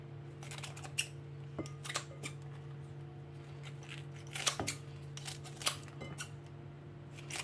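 A small leftover piece of meat is cut into chunks for a stew pot, with quiet scattered clicking snips and taps, faint and close over a low steady hum.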